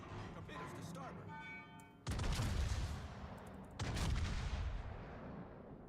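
Warship main guns firing at an enemy warship in a naval battle video game, two heavy booming salvos with long rumbling tails after a stretch of lighter in-game noise.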